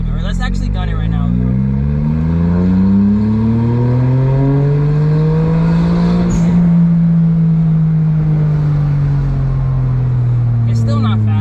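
A Suzuki Cappuccino accelerates hard, its small engine climbing through a rising then falling whine near the listener, with voices talking over the run.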